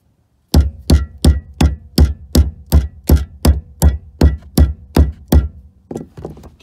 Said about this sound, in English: I just banged on it a little bit with the hammer